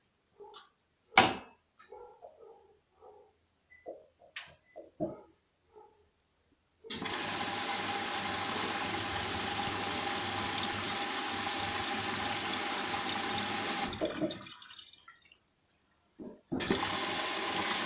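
A washing machine on a forty-degree wool rinse cycle with extra rinse draws in water in a steady loud rushing fill, stopping briefly and starting again, after a few scattered clicks and knocks.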